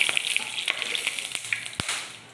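Whole garam masala, dried red chillies and cumin crackle and sizzle in hot oil in a kadai, a steady bright fizz with small pops and a few clicks of a utensil.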